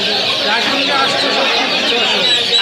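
Chickens cluck amid the bustle of the weekly Goyali Manda village poultry market, held every Tuesday, with overlapping clucks and calls close by beneath people talking and bargaining.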